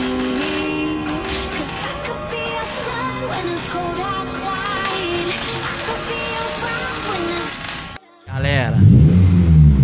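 A 2002 Toyota Corolla with a stainless 2.5-inch sport muffler revs loudly and rises in pitch, then drops away briefly before a sharp renewed rev close by.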